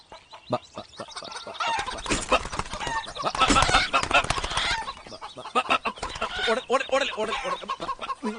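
A chicken meant for slaughter clucks in a Malayalam comedy film scene, with repeated agitated clucks and squawks close by, mixed with people talking over them.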